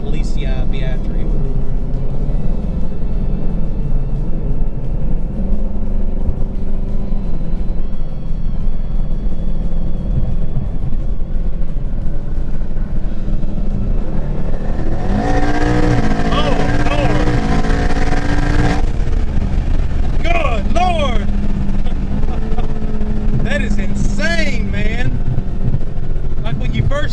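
Heavily modified 1400hp S550 Mustang engine droning under steady in-cabin conversation, then spooling up into a loud, roaring surge of acceleration with turbo whistle and crackle toward the end.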